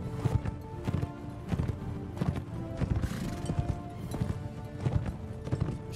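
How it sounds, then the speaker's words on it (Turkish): Horses galloping in the Mount & Blade Warband video game, a loud rapid clatter of hooves with occasional neighs, sustained and rhythmic throughout with no talk. "Şeyler, atlar önden gidiyor."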